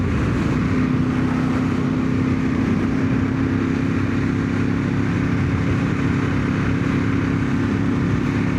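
Ducati 916 motorcycle engine on the move, a loud, steady, close drone with a sustained tone and constant wind rush, no breaks throughout.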